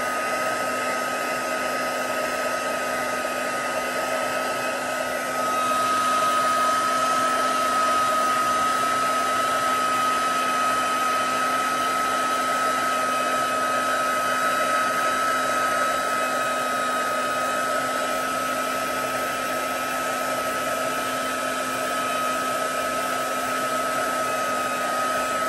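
Steady, loud whooshing blow of a heat embossing tool warming powder on a Christmas card, continuous with a constant hum throughout and no talking.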